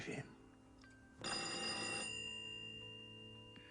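A telephone bell rings in a comedy scene, with sustained metallic ringing tones that grow louder partway through and hold to the end, mixed with faint background sound.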